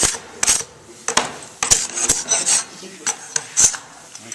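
Dried wood glue scraped off a wooden board, with repeated short, rasping scrapes in an uneven rhythm, close and fairly loud.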